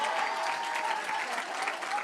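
Steady applause from a crowd at a State House gathering where heads of women's groups congratulate Sierra Leone's president, dense continuous clapping filling the whole stretch with no clear pauses.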